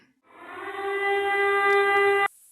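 A new air raid alert notification siren in Chernihiv, Ukraine, sounds as one loud, steady electronic tone that swells up quickly, holds for about two seconds, then cuts off abruptly.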